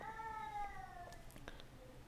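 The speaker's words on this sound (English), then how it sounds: "That is my cat." A pet cat meows once or twice, a drawn-out falling cry that is fairly close and clear, with faint background noise and brief clicks near the end.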